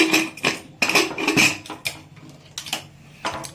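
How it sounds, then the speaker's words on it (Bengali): A metal lid is handled and closed on a cooking pot while vegetarian daliya khichuri cooks, giving several close, sharp metallic clanks and clinks in an uneven rhythm. "এবারে গ্যাসের ঢাকনাটা আমরা বন্ধ করে দিচ্ছি"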